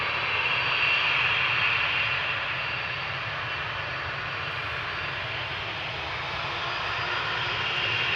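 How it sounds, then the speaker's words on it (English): A steady, broad aircraft engine roar fills the air at Amsterdam Schiphol Airport as planes taxi and fly nearby, a continuous loud drone with no pauses. "see more airplanes coming over here"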